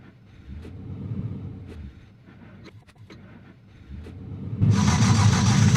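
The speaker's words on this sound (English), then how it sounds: "as you can see, it starts right up." A classic American-made pickup truck with a bench seat cranks with a few quiet clicks and turns, then catches about three quarters of the way through and settles into a loud, steady running rumble close by.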